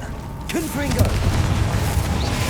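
Fiery Confringo explosion spells from Hogwarts Legacy go off as a few low, rumbling booms beneath a player calling out spell names, with a brief burst near the start.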